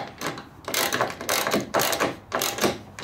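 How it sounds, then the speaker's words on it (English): A 14 mm socket wrench tightens a bolt on a Ski-Doo snowmobile seat system, giving repeated ratcheting clicks in short bursts of rhythmic strokes, close and fairly loud. "We'll grab our 14 millimeter socket or wrench"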